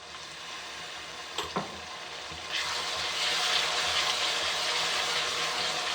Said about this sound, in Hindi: प्याज अभी हम थोड़े से और फ्राई करेंगे।